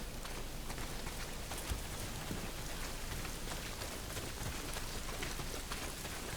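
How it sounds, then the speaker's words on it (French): Heavy rain pours down in the video game Days Gone, a dense, constant downpour hissing loudly on surfaces with scattered sharper drops and no voices throughout. "Pas s'il pleut des cordes, frangin."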